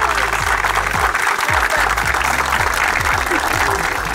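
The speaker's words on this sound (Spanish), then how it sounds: "El aplauso va a ser para recibir a Bailén Arruz" Loud, dense applause from an audience welcoming a guest at a tennis event at a sports club, continuous clapping filling the space, with a low rumble and faint voices beneath.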